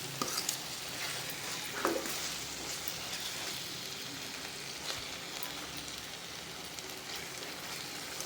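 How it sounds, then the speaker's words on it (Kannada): Paneer bhurji cooks on a low flame in a pan, a soft, even crackling sizzle broken by light stirring scrapes, quiet and continuous throughout with no one speaking. "ಈಗ ಒಂದು 10 ಮಿನಿಟ್ಸು ಲೋ ಫ್ಲೇಮಲ್ಲಿ ಇಟ್ಟು ಮಾಡಿದ್ರೆ ಪನ್ನೀರ್ ಬುರ್ಜಿ ರೆಡಿಯಾಗುತ್ತೆ."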